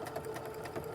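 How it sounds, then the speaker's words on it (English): A sewing machine stitches triangle pieces of a modern fat quarter quilt, a fast, even mechanical whirr with rapid needle pulses running throughout. "when I put this in to line it up and sew."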